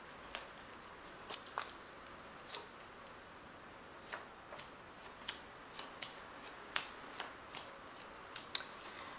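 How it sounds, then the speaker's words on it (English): Tarot cards being shuffled and handled close up; light, crisp ticks and soft flicks repeat at an uneven pace, quiet against a faint background hiss. "So I've shuffled these cards."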